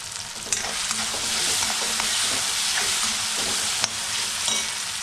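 Onion and tomato masala fries in hot oil for a spiny-gourd kantoli dish, giving a steady, loud, close sizzle throughout with a few sharp pops and faint stirring scrapes, and no talking.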